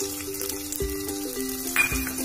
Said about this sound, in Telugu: ఆయిల్ కాగగానే ముందుగా దీంట్లో మనం ఆనియన్స్ వేసుకుందాం